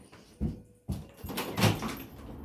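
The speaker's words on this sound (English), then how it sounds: "there's someone at the door" A door is opened for someone arriving at a house, giving two sharp knocks or thuds followed by a broader clatter and rustle of the door moving, close by and with no talk.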